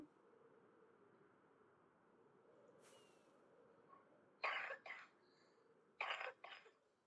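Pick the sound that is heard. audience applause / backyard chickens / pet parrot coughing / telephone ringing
pet parrot coughing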